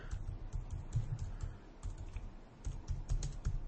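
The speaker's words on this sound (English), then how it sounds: "Still typing." Someone typing steadily on a computer keyboard close by, with quick irregular clusters of key clicks, short pauses between bursts and no voices.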